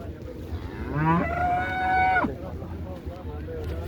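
A single long, loud buffalo low, rising then held steadily for about a second, over a busy outdoor background with murmuring voices at the Mansa cattle market.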